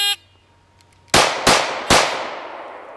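Three sharp gunshots fired in quick succession during a shield shooting drill, each a loud close crack with a short ringing tail, the rounds spaced about a third to half a second apart after a brief quiet pause.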